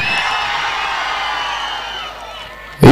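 A crowd at a state junior kabaddi semi-final in Mandya cheers and whoops in a sustained roar that fades slightly, then a sudden loud burst hits at the very end.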